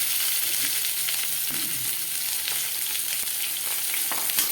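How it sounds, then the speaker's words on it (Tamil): Chopped onions sizzling and frying in a pan for a capsicum and onion curry, a steady loud hiss with occasional stirring scrapes and crackles, no talking. "வெங்காயத்தை போட்டு வதக்கணும்"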